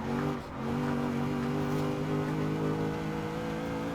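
A supercharged car in the Forza Horizon 4 racing game drives at high speed, its engine holding a steady, loud drone with a brief dip early on before the power resumes, with no talking.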